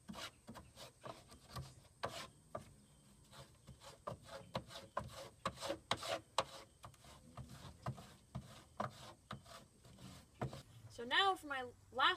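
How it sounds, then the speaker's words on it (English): Repeated rough scrapes and rasping rubs as a kitty litter scooper digs old bedding out of the corners of an enclosure, in an irregular series of close strokes. A voice is heard faintly in places. "I just get right into these corners and just scrape out"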